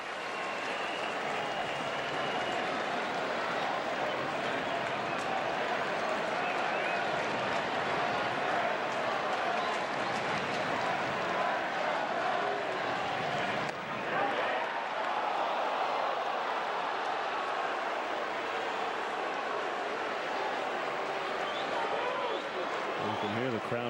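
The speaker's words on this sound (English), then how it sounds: "You can hear the crowd oohing and eyeing and booing at every pitch." Crowd at a Cardinals–Cubs baseball game at the Cubs' ballpark in the 9th inning, a steady loud roar of spectators oohing and booing throughout, with broadcast commentary over it.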